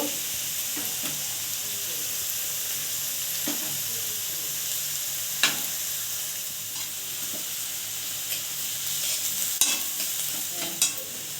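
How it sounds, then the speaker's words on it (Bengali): Garlic frying beside onions in a pan for aloo paratha, a steady close sizzle with occasional stirring scrapes and clicks of a utensil, no talking. "রসুনটাকে ভালো করে লাল লাল করে ভেজে নিব"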